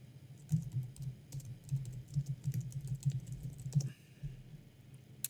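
Steady typing on a computer keyboard, rapid clustered key clicks for a few seconds, then a brief pause and a few last taps, close up with no talking.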